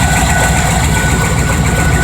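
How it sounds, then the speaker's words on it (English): A solid-lifter engine idles steadily in a charging test with a one-wire alternator, a loud, even low rumble with a faint fast ticking running through it and no voices. "Solid lifter engine clicking away like it should."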